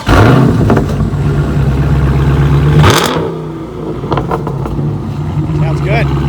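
A Dodge Challenger Scatpack with the 392 Hemi and straight-pipe exhaust idles with a loud, heavy rumble. It gives a sharp rev blip about halfway through and then settles back into a steady idle, with voices talking over it.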